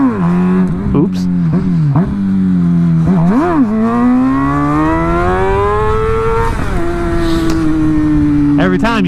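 Motorcycle revving hard during throttle-up wheelies with no clutch, the engine note rising and falling in repeated sharp bursts, then a long climbing rev held high, close and loud, with a brief spoken exclamation.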